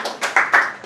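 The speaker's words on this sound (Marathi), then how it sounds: "झाल्या टाळ्या" A group claps together during a fun outdoor gathering on a bike ride, with a few quick, close bursts of hand claps in under a second.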